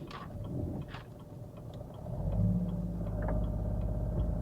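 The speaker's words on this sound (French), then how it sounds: "j'ai pas vu la voiture arriver" A car arrives and drives past on a road, its engine rumble swelling partway through and staying steady and fairly close until the end, with no talking.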